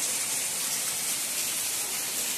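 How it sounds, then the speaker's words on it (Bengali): Heavy rain pours down outdoors in a steady, dense hiss that holds unchanged from start to finish with no voices. "প্রচণ্ড পরিমাণে বাইরে বৃষ্টি হচ্ছে"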